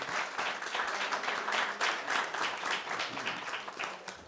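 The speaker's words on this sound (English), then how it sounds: "we want to one more time clap for you all and thank you" Audience members at a school board meeting give a round of clapping lasting several seconds, a moderately loud, even wash of many hands with no one talking.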